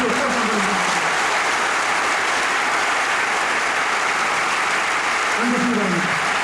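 A large audience at a 65th anniversary ceremony applauds award recipients for ten years of service, loud sustained clapping filling the hall while a voice speaks briefly at the start and again near the end.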